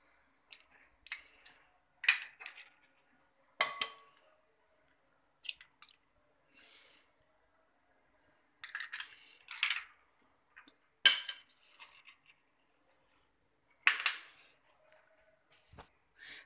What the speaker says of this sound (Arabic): وغادي ناخذوا البيض ديالنا اللي كنهرسوه